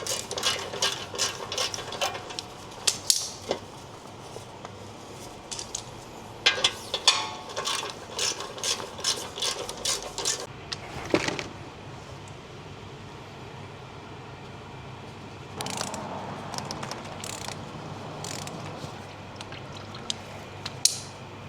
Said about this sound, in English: So all I need here is the 13mm, the eastbound socket. I think there's about 7 bolts on this one and it's off, done.